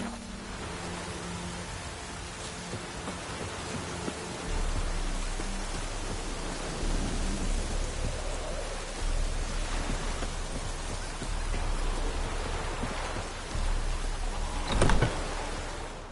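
Steady rain hisses as a broad wash of noise in the Witcher 3 game world, with low rumbling underneath and a brief sharper knock near the end, with no voices.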